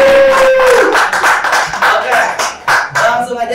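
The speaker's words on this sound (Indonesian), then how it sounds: "Sekali lagi Pak Irawan, kita kasih tepuk tangan dulu dong." A handful of people clap in uneven bursts during an online webinar on internet use for inclusive economics, the sharp claps mixed with a voice speaking over them, fairly close and loud.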